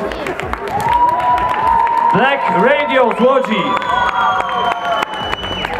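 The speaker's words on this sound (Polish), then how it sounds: "Wielkie brawa." An audience at an outdoor music event applauds and cheers bands on stage, with clapping and shouts beneath a loud, amplified announcer's voice and squeals of vocal pitch.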